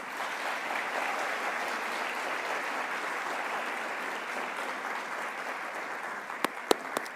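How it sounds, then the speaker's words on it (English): Steady, dense applause from an awards ceremony audience filling the hall evenly, with a few sharp, close claps near the end. "Keep clapping"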